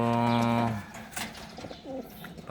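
Pigeons coo in a small home loft, a loud close coo at the start followed by softer scattered calls and rustling.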